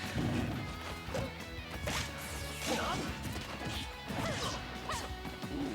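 Repeated heavy hit impacts in Super Smash Bros. Ultimate during a Cloud versus Banjo & Kazooie losers-finals tournament match, sharp smacks and whooshes layered over constant game music and crowd noise.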